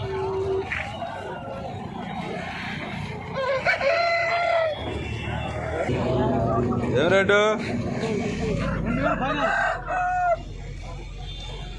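A turkey and other fowl at a country chicken market, with crowing and clucking calls rising over a busy crowd, while people talk nearby throughout.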